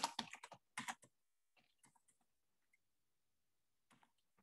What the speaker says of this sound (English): So let me type in here.